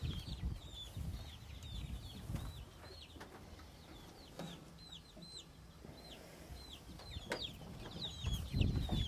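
Chickens cluck and chatter inside a chicken coop, several birds making repeated short calls close by, with soft shuffling and low thumps between them and no speech.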